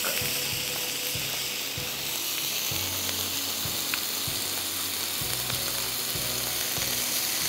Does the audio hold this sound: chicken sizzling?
yes